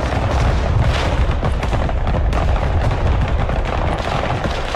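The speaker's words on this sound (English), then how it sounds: "I've got artillery going on their tanks now" Artillery fire pounds enemy tanks during a Broken Arrow multiplayer battle, a loud, unbroken barrage of booms and rumbling blasts layered over one another.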